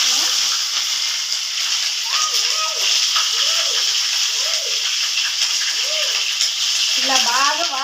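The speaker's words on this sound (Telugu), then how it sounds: "ఆవాలు వేగిన తర్వాత చికెన్ వేసుకున్నాను." Chicken pieces fry in a pan after mustard seeds have crackled for a Rayalaseema-style chicken curry, giving a steady bright sizzle throughout while someone speaks over it.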